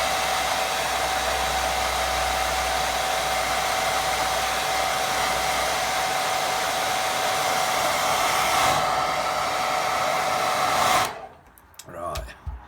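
Hair dryer blowing over a watercolour painting, a loud, steady whine with a constant pitch held close for about eleven seconds before it cuts off, leaving faint handling noises.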